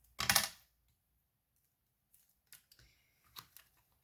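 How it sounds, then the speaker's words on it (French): Scissors trimming excess paper from a handmade chocolate-bar box: one sharp close snip, then a pause and a few lighter clicks and cuts in a quiet room. "je viens couper l'excédent"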